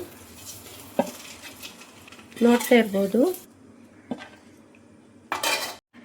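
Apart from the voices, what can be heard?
egg masala being transferred from pan to plate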